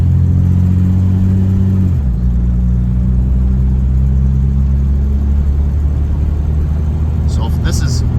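A 1956 Jaguar Mark VII M drives on the road with a steady, loud engine drone and low rumble that shifts pitch partway through, while a person talks over it.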